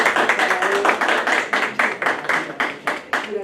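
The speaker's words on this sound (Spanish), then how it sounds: "Por favor, un aplauso." Audience applause at the close of a talk on sex education and preventing digital violence in the AI era, heard as a steady run of fairly close, rhythmic hand claps.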